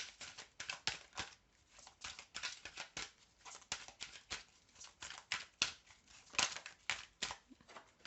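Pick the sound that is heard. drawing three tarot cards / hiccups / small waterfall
drawing three tarot cards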